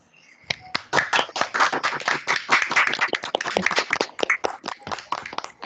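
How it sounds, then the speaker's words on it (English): Several people clap together through their microphones during an online meeting, a dense patter of hand claps lasting a few seconds before thinning out. "just unmute your microphone if you wish to give Sherif a round of applause"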